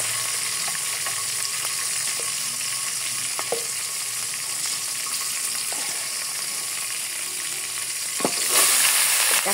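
Panch phoron and green chilies frying in a pan, a steady dense sizzle with a few faint clicks of stirring, close and even, swelling slightly louder near the end.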